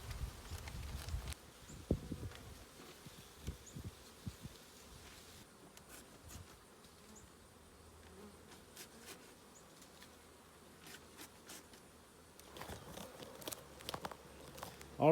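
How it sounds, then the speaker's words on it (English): Honeybees buzz in and around a hive as two colonies are merged, a faint, close hum running throughout with soft rustling and handling knocks, louder bursts of movement near the start and end. "You can see we've got all of our bees here"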